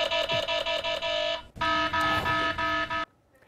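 An earthquake early warning system alarm sounds in two long loud electronic buzzing bursts with a fast pulsing texture, separated by a short gap, then cuts to near silence.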